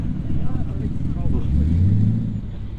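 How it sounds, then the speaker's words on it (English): A Toyota GT86 fitted with an LS3 Corvette V8 engine rumbles loudly and close, its deep exhaust note swelling into a rising rev near the end, with outdoor wind noise around it. "A Toyota GT86 with an LS3 Corvette engine. My God, that is incredible. Listen to that sound."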